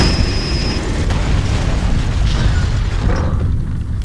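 Shooting and explosions in the Godzilla Save the Earth arcade video game, a dense, continuous wash of booming blasts and rumbling bursts that stays loud throughout, with a short whine near the start.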